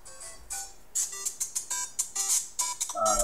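A mobile phone rings during a nighttime Wheel of Fortune game show taping: a rapid, bright electronic ringtone with quick repeating tones, loud and close, with no talk over it.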